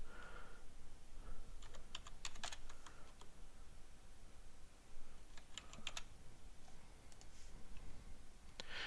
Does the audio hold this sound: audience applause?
no